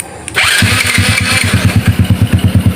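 A modified Honda C70 motorcycle with a 97cc four-speed engine starts up close by, catching after a brief crank and settling into a loud, steady, pulsing idle.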